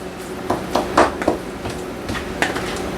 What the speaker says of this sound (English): I'm going to give this a stir and a taste.